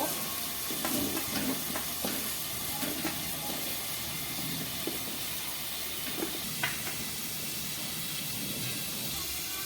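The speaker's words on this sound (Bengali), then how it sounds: "আলুটা ভালো করে লাল লাল করে ভাজা হয়ে গেছে" Salted potatoes frying in a pan until browned, giving a steady, dense sizzling hiss with occasional faint stirring clicks, close and continuous.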